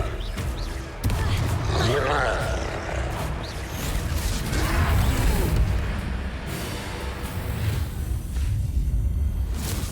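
Confringo blasting-curse explosions in the Hogwarts Legacy video game during a troll fight, heavy booming blasts and rumbling crashes with whooshing spell sounds, loud and repeated across the stretch.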